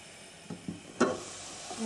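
Food for a bulgur pilaf sautés in a covered pan, giving a quiet, steady sizzle with a few soft pops and clicks.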